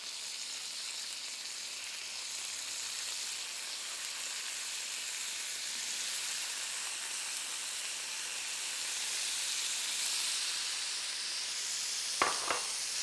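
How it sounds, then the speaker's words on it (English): Lamb cutlets sizzle steadily on a hot grill, a bright continuous hiss, with a brief clatter near the end. "Hear that sizzle."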